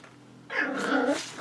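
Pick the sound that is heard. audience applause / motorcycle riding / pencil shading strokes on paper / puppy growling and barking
puppy growling and barking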